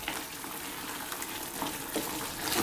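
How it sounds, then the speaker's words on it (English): Beef mushroom curry with tomatoes simmering in a pan, a steady dense bubbling hiss close by, with no talk. "Nice simmer."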